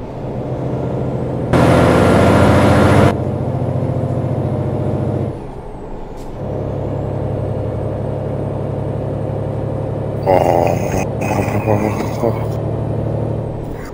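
Mack Anthem modern truck with its engine rumbling steadily throughout, broken by two loud bursts of air brake hiss, the second more clattering; no speech over it.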